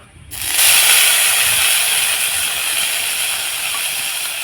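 Small cubes of paneer dropped into a kadai set off a sudden loud, continuous hiss that holds steady and close after a brief quiet start.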